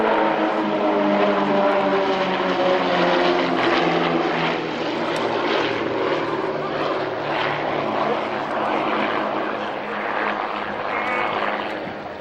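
Propeller aircraft flying in formation at the RIAT Fairford air show, a loud, sustained engine drone with steady tonal hum passing overhead, commentary faintly present beneath.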